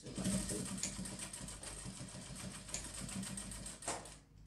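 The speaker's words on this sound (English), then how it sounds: "You stitch it down and back stitch." A sewing machine runs continuously while stitching and back stitching a seam on trousers, a close, steady mechanical whir with faint rhythmic ticking throughout.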